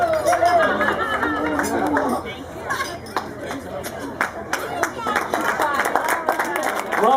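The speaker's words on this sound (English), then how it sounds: "Round of applause for Ronnie Turbovich." Wedding guests clap and cheer after a best man's speech, scattered claps mixed with lively crowd chatter and voices, uneven and fairly close.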